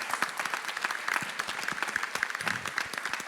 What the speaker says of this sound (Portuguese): Gente, vocês podem aplaudir.